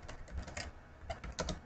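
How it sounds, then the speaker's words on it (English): Typing on a computer keyboard: irregular bursts of light, quiet key clicks in quick clusters, heard alone without speech. "Just assume you're typing."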